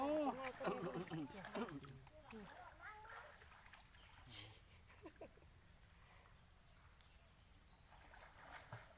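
Water splashing and trickling in a clear, high, fast-flowing stream at a rural garden home, with busy splashes in the first few seconds settling into a quieter steady flow, people talking nearby throughout.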